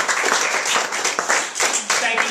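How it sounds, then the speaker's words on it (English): Audience at a small magic show giving a short burst of clapping, close and lively, with voices mixed in. "Give a round of applause."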